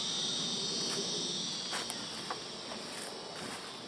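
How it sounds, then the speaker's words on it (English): Insects buzzing outdoors near a compost pile, a steady high-pitched drone held throughout, faint and fairly distant, with a few soft rustles and steps close by. "The cicadas are not happy."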